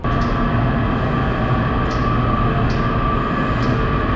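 Metro train at the RFK campus station, a steady loud rumble of rolling cars held throughout with faint brake hiss or squeal near the platform, no voices.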